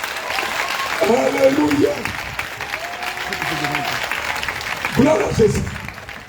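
A church congregation claps in two bursts, each lasting about a second, and the clapping mixes with a preacher's voice and shouted praise.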